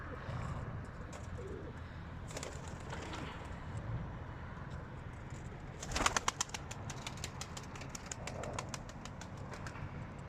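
Pigeons cooing softly in the distance, with a burst of rapid wing flapping as the birds take off, set against faint outdoor background noise and a low hum.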